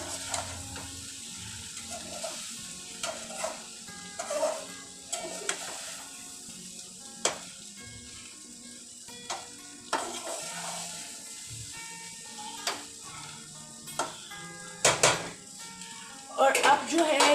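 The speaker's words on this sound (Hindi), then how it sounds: "और अब मैं इसको बस थोड़ा सा इसमें चम्मच चलाऊंगी" Roasted chicken rice being turned over in a pan with a spoon, soft scraping and clinking strokes recurring across a continuous low sizzle, with someone talking over it now and then.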